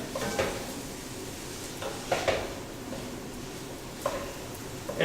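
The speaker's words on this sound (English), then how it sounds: "So, stir that in." Kosher salt being stirred into vegetables in a soup pot, with a few soft scraping strokes and light clinks of a spoon against the pot over a steady low cooking hiss.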